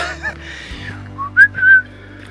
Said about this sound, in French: je siffle pour éloigner les ours